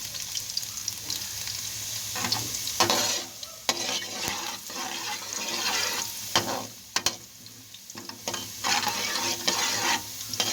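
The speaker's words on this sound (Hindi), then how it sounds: "इसको भी हम थोड़ी देर के लिए फ्राई कर लेंगे इसमें।" Thinly sliced garlic fries in hot oil with cumin for an eggplant dish, crackling in a continuous sizzle broken by repeated stirring scrapes of a spoon against the pan.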